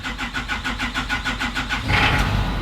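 A CJ7 Jeep engine cranks with a steady rhythmic starter chug, then catches and fires up louder near the end, close and alone without talk.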